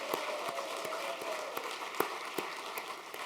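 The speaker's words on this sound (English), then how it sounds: "we should have a huge round of applause for our visitors" Steady applause from a quiz bowl audience fills the space, with a few sharper individual claps and faint cheering and voices mixed in.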